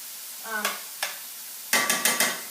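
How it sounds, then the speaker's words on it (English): Rice stir-fried in oil with vegetables sizzles in a pan, with a few sharp scraping stirs and hissing bursts between quieter moments, close and clear. "I'm gonna add a tiny bit more oil, and I'm gonna add in the rice."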